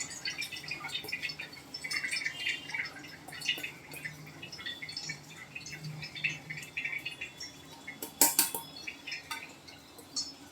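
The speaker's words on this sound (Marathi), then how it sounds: "आता ह्याला 5-1 मिनिट असं निथळत ठेवायचं आहे, म्हणजे सगळं पाणी तुमचं ड्रेन होऊन जाणार" Soaked urad dal sits draining in a sieve while water drips through it in soft, irregular patters, with a sharper clink of a utensil partway through.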